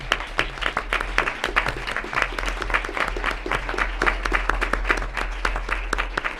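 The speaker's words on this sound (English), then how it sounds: "Let's do a round of applause really quickly." Audience applause at a Sierra Madre city council regular meeting, a brisk round of many separate claps from a small room crowd, steady and fairly close over a low mains hum.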